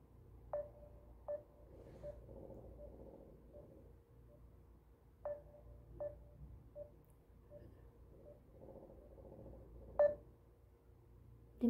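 A phone call is placed as a handful of short dialing beeps sound in separated clusters against a faint background hum, quiet and close.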